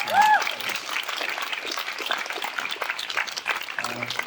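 Audience applause at an induction gathering, a steady wash of many hands clapping throughout, with a voice heard briefly at the start and again near the end.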